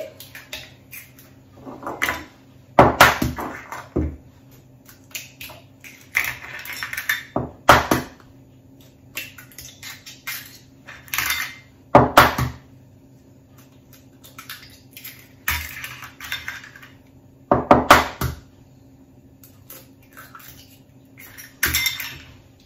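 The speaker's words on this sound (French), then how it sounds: "Je les bats à la cuillère magique directement dans mon pichet" Five whole eggs beaten with a spoon directly in a plastic pouring jug: repeated bursts of clinking and scraping come in uneven clusters, some loud and close, with quieter stirring between them and no talk.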